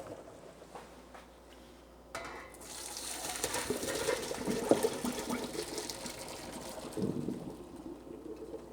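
Hot water from pot-boiled potatoes pours into a kitchen sink through a colander, a sudden rushing splash that rises after a few quiet clinks and keeps gushing steadily, with a brief clatter of the pot near the end.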